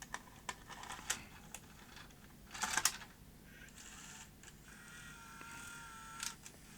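A 1989 Sony EVS1000E Hi8 recorder takes in a tape, a quiet run of small mechanical clicks and clatter with a brief louder whirring clunk as the cassette loads, then soft motor hum.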